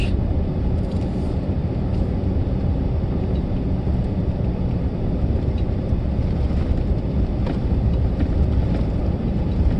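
A truck towing a dual-axle trailer rolls along rough, bumpy Highway 4, a loud continuous road roar and rumble with wind buffeting, and no talk.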